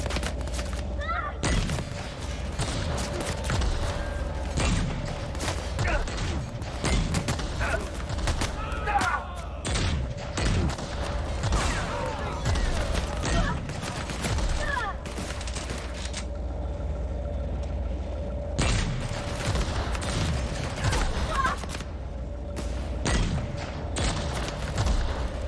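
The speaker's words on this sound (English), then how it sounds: "Actually, now would be the time for that grenade launcher." Explosive game combat from The Outer Worlds on PS4 Pro: repeated heavy booms and thuds of a grenade launcher firing amid a dense barrage of gunfire, loud and continuous throughout, with occasional talk underneath.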